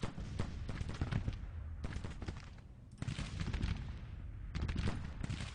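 Artillery guns firing in the strategy game Grand Tactician, with rolling bursts of gunfire and cannon booms in several clustered volleys and short quieter gaps between them, at mid distance.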